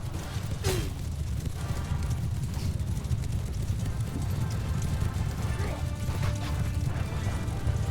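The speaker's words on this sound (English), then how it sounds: "So I'm just going to run him down with the horse." A horse gallops through a Mount & Blade II Bannerlord battle, with steady hoofbeats running under a dense wash of game noise, clashing and ambient din, fairly loud and continuous.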